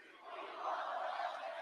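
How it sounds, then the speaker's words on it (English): A wrestling arena crowd chanting "We Want Roman" during a live WWE Raw event, a distant, sustained roar of many voices swelling slightly and holding steady. "Oh, the crowd's got "We Want Roman" chants."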